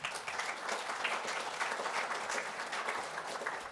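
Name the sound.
applause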